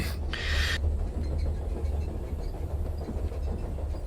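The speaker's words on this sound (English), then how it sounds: "But train's still going." A train keeps rolling along its rails in a low, continuous rumble, fairly quiet and steady, with a brief bright hiss near the start and faint rhythmic clatter underneath, no voices.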